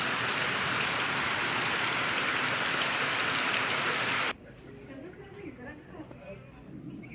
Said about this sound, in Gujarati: સવારથી વરસાદ આવી રહ્યો છે અને ઘણો બધો વરસાદ પડ્યો છે અને ચાલુ પણ છે